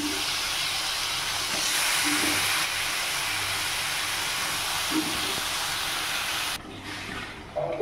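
Loitta (Bombay duck) fish dropped into hot spiced oil on a high flame, setting off a loud, dense, continuous sizzle that runs steadily close by, then suddenly dies back near the end with a few faint clinks.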